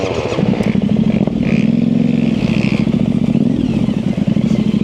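A Yamaha Tenere 700 adventure motorcycle rides Michigan single-track trail, its engine loud and close with a continuous pulsing thrum that rises and falls with throttle, overlaid by rattling and clatter from the rough terrain.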